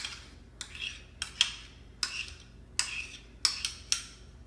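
Coleslaw being mixed with barbecue sauce and mayonnaise, a utensil scraping and clinking against the bowl in about eight sharp, spaced strokes, close and fairly faint.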